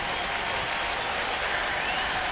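A baseball crowd in the ninth inning of Baltimore at Toronto claps and cheers in a dense, steady wash of applause, loud and continuous throughout.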